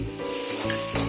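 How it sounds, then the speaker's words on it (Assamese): Jujube pickle with jaggery sizzles and bubbles steadily in a pan over a medium flame, stirred continuously, with no talking. "গুড়খিনি দিয়াৰ পিছত এনেকৈ লৰাই থাকিম"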